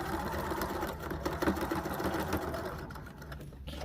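A sewing machine running steadily as it back stitches the waistband seam of a utility kilt being taken in at the waist, a continuous close mechanical whir with faint rhythmic clatter and no talk.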